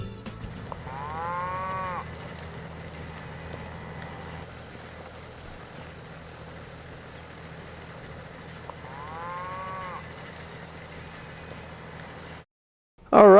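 Queenie, a cow living at a farm sanctuary, gives two long moos several seconds apart over a steady background hum, then the sound cuts out briefly before a short loud burst at the end.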